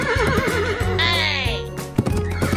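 An animated cartoon horse on a farm gives a loud, quavering whinny, rising and then falling in pitch, close up over a backing music bed, with a few hoof-like knocks toward the end.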